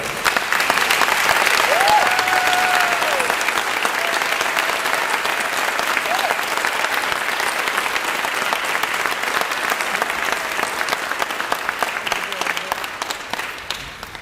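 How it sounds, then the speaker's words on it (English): A large audience at a school district's state-of-the-district address applauds school principals, a long, steady roar of many hands that holds for over ten seconds before tapering off, with a few voices faintly mixed in. "please stand for a round of applause"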